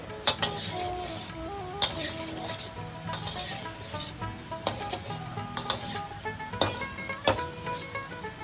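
Soft continuous sizzling of oil as Nikuti sweets fry, with frequent sharp clinks and scrapes of a utensil turning them against the pan, close and fairly quiet.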